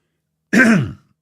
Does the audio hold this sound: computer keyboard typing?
no